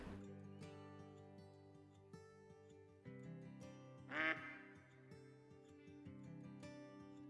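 A duck in the hunting game Call of the Wild gives a short burst of raspy quacks midway, heard over a steady ambient music drone with soft scattered clicks.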